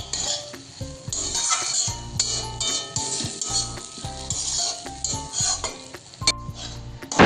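Water poured into a hot pan at a home kitchen stove, bursting into a loud sizzle while a metal spoon stirs and scrapes, clinking against the pot in uneven bursts with no talking.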